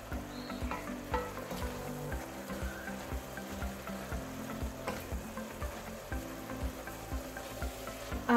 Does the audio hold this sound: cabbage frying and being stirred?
yes